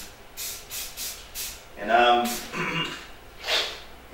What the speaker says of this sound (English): So let me spray paint this